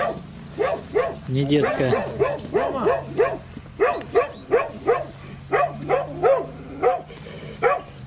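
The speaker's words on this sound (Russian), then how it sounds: "Вот это псина." A serious guard dog at a house in the village of Sharchino barks repeatedly in a loud, even rhythm, with a person talking over the barks.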